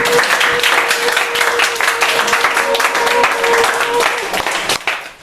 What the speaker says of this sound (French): C'est quelque chose pour applaudir à Jésus.